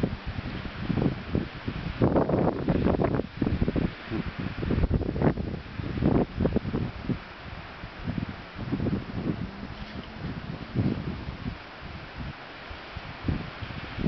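Gusty wind roars and buffets the microphone beside a small 500-watt MW&S wind turbine outdoors, with rustling surges rising and falling steadily throughout.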